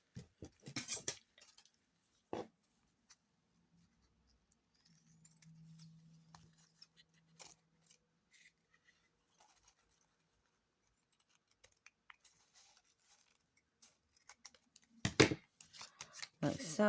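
Scissors snipping excess paper during a papercraft project, a few close crisp cuts in scattered bursts with quiet gaps between, ending with a busier flurry of paper handling.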